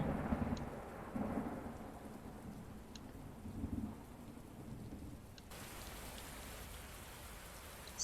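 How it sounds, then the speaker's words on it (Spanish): Steady rain and wind with soft rumbles of thunder in a stormy video game scene, a constant hiss with low swells, fairly quiet and with no voices. "Sonido de lluvia, viento y trueno."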